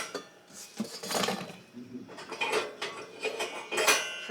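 Small metal mini air fryer accessories, a deep dish pan, pizza pan and double layer rack, clink and clatter together as they are handled, several bright knocks and rattles in irregular bursts, close by with no talking.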